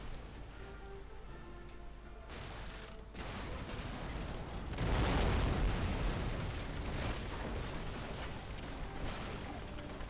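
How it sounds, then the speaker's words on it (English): Heavy round shot from warship cannons strikes the stern of an enemy vessel in a naval battle in Empire: Total War, a dense rumbling barrage of booms that swells to a loud burst midway and keeps rolling through the rest. "Some good round shot now at the stern"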